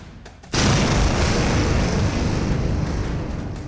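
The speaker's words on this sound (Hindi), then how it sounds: "नूर खान बेस पर धमाका" A sudden loud explosion at Nur Khan air base bursts out, followed by a heavy rumbling roar that slowly fades.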